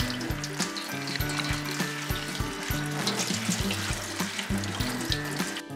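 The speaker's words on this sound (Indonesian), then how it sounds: "Terus setelah ini kita akan cuci pakai air yang mengalir." Running tap water pours steadily into a sink while vegetable leaves are washed under it for kimchi, a continuous close splashing flow with irregular rustling and sloshing throughout and no talk.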